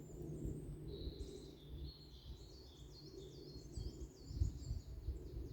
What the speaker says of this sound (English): So many different sounds, different calls of birds